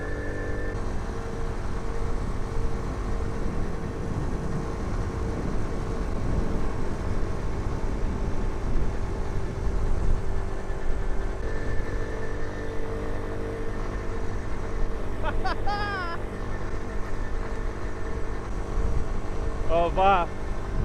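A postie motorcycle rides along in second gear at a steady, moderately loud drone, with a faint voice heard partway through.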